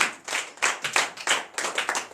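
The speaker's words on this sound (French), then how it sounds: "Donnez l'acclamation à Seigneur" Church congregation at a night prayer service in Benin clapping in acclamation, a quick series of rhythmic, crisp group claps repeating at a steady pace, fairly close and moderately loud, with no voices.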